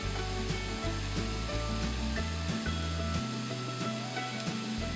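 Spaghetti squash and diced green onions sizzle in a pan while being stirred, a steady close frying hiss under a backing of stepped low music tones.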